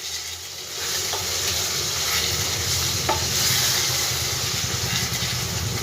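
Chicken being stir-fried in a pan for a cauliflower curry, a steady close sizzle with occasional light scrapes of a spatula throughout.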